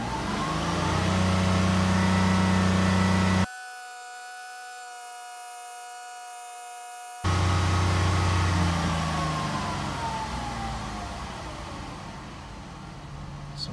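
A 2001 Ford Escape 3.0 V6 AWD idles with a steady, loud, close droning hum that drops out briefly midway, then resumes and slowly fades a little.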